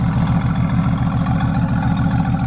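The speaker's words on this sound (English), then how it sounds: "One thing that I do love that Mercedes does very well is the darn exhaust." A Mercedes car's loud exhaust burbles in a deep, steady rumble close by, pulsing evenly with no voices over it.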